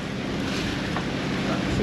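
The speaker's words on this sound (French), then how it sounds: "c'est du vent" Strong wind roars steadily against the microphone during a boat trip in rough weather, a loud continuous rumbling gust with a hiss of sea spray and no break for its full length.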